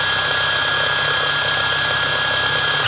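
A DRIVAK EW002 cordless 600 Nm impact wrench runs at its first speed of 1950 rpm, a loud, steady high-pitched whine with an even motor drone that holds constant throughout and cuts off at the very end.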